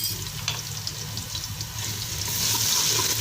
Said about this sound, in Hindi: सबसे पहले हम डालेंगे अदरक लहसुन।